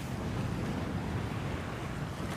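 Mistral wind blowing over the sea off Porto Cervo, a steady broadband roar of gusting wind and choppy waves with constant microphone buffeting, loud and unbroken.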